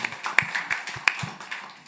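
A church congregation at a Sunday worship service applauding, sparse scattered claps and taps at moderate distance, fairly quiet, with no steady roar.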